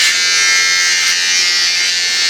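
An Andis inSight Slim cordless trimmer runs steadily with a bright, high-pitched electric buzz, loud and close, holding an even tone throughout without any talking.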